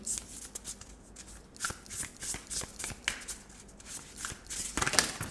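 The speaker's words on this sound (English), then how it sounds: "I am gonna shuffle again" Tarot cards are shuffled by hand, a steady run of crisp riffling and flicking close up, with sharper snaps toward the end and no talking.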